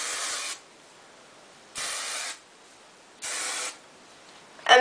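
Hairspray sprayed onto hair while styling it, heard as three short, close hissing bursts evenly spaced with quiet gaps in between and no talking.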